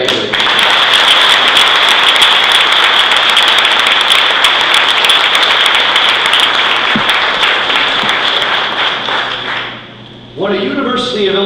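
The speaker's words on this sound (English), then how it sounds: "Please join me in applauding the life of Jack Mabley." Sustained audience applause at a building dedication and hall of fame induction honoring a late newspaperman, loud and dense for about ten seconds before fading, then a voice begins speaking at the end.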